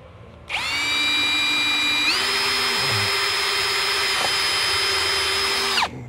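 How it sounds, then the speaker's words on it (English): A power drill bores a hole near the top of a window, a loud close motor whine that spins up, rises a step in pitch and holds steady for about five seconds before cutting off. "we got our first hole drilled"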